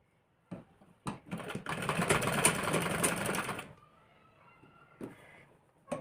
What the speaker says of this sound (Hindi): इसके पाइपिंग के ऊपर से लाइन मशीन चलानी है, सिर्फ इसके यहाँ पे किनारे किनारे पे।